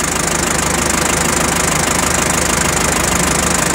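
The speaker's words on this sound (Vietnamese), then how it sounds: "Máy móc coi như là nó nổ rất là êm luôn." A Japanese Kubota or Shibaura four-cylinder tractor engine idles close by with a steady, even knocking rumble and dense broadband noise, running smoothly throughout.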